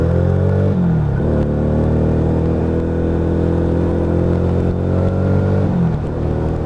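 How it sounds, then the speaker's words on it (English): A Lexmoto Vendetta 250cc motorcycle exhaust on the move, loud and close, with the engine note climbing through the gears and briefly dropping at each shift before pulling up again. "Very, very similar exhaust tone to that Tempest GT that's a 125."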